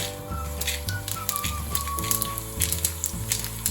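Cumin seeds frying in hot oil for dal makhani, a steady close sizzle and crackle with scattered pops running throughout, layered with tonal hum and a faint whistle-like tone.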